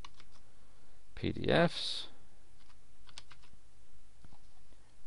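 Soft keyboard typing taps out a file name in quick scattered clicks, faint and close, with a brief spoken word partway through.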